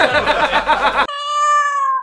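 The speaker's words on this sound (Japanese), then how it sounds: "子猫子猫" A kitten lets out a single drawn-out, high-pitched mew that rings clear and alone, following a short burst of busy, noisy chatter.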